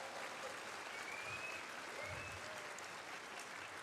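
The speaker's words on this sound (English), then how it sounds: "Can we hear another round of applause for our incredible panelists on stage here?" Sustained applause from an audience, a steady wash of clapping heard from a distance, fairly faint, with no break.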